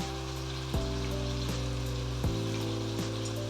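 Chicken washed with turmeric powder hits a hot pan for chicken gravy, giving a steady, close sizzle and bubbling with a few soft knocks of pieces settling in.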